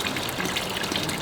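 Water from Fern Spring, a natural spring at Havasupai, runs in a steady, close, moderately loud rush with a bright trickling, splashing texture and no voices.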